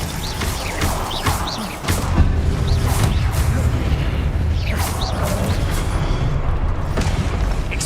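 Confringo fire spell blasts in Hogwarts Legacy combat, a string of sharp booming impacts and crashes over a dense game soundtrack with rumbling low end.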